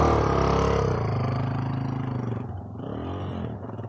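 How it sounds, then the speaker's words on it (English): A Yamaha MT-07 street motorcycle runs loud and steady, then its engine note dips and shifts as it changes gear, a continuous close drone with no talking. "Hey, that was a gear shift."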